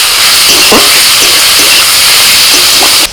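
Boiled cabbage leaves sizzling loudly in a pan with fried onion and prawn, a close, steady hiss with brief crackles and scraping stirs throughout, with no talk.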